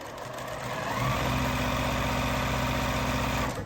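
A sewing machine stitches quilt block pieces together, its motor starting after a moment of quiet and running as a steady close mechanical hum for a few seconds before stopping.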